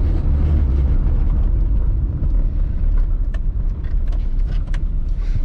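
Light short-wheelbase car driven hard like a go-kart, a loud steady engine and road rumble heard from inside, with continuous low drone and no talk.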